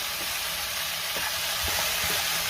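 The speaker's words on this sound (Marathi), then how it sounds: "आता ही भेंडी मी 2 मिनिटं चांगली परतून घेणार आहे" Okra (bhindi) stir-fried on a high flame, a steady loud hiss of sizzling oil with a few faint clicks of stirring and no talk.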